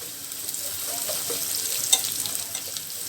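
Onions fry with salt in a pan for a Bengali chicken bhuna while a spoon stirs through them, a bright continuous sizzle with light scraping touches and one sharp clink, close and with no talking.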